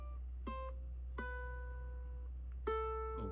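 Three plucked ukulele notes sound in slow succession, each ringing clearly before the next, played alone over faint background hum.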